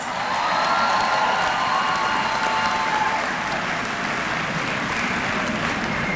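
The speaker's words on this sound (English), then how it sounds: "Let's give all of our honor graduates another round of applause." A commencement crowd applauding the honor graduates: sustained, full clapping from many hands with faint cheering mixed in, steady from start to finish.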